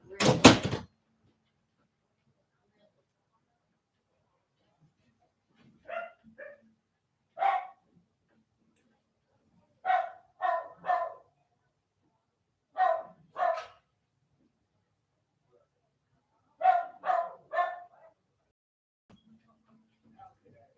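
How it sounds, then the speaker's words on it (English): Several dogs bark indoors in short clustered bursts of two or three, with a loud clatter at the start and quiet gaps between volleys, no talking over them. "my dogs are going crazy"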